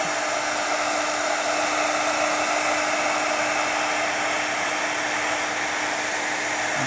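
Heat gun melting embossing powder on a crafted piece, a loud, steady blowing roar with a constant whine, unbroken throughout.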